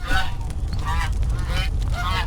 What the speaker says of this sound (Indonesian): Ada burung, ada bebek.